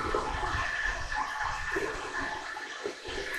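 Water pours steadily into a jar of potatoes packed for canning, a continuous, fairly loud rushing and splashing stream that fills the whole stretch without any voices.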